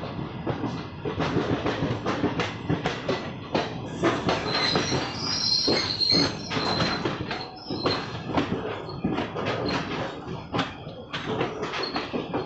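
Mussoorie Express passenger train pulling into platform 1 at an Indian station, with steady rolling clatter of wagons and repeated high wheel squeals, loud and close and continuing throughout with no talking.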